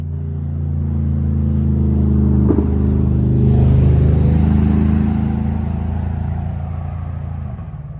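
A car drives past outside on a Florida farmstead, its engine rumble building steadily, peaking near the middle as it passes close, then fading away, with no talk.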